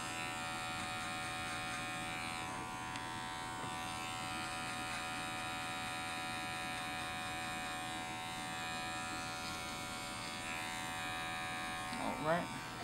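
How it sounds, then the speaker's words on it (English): An electric hair clipper buzzes continuously at close range during a barbershop skin fade, a steady high hum that runs throughout with a brief scrape near the end. "make sure your clipper's on the balls"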